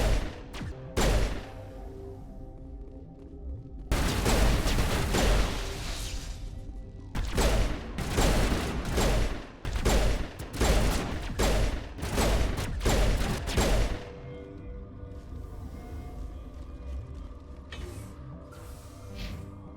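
Gunfire in the video game Mass Effect Legendary Edition, loud sustained bursts of automatic fire with short gaps that stop abruptly, leaving a quieter background hum at the end.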